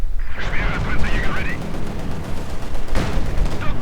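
Battle gunfire in the Company of Heroes 2 video game as conscripts with a flamethrower fight Grenadiers in a blizzard: dense, loud rattling bursts of rifle and machine-gun fire with booming impacts, continuous throughout, with a commentator's voice woven in.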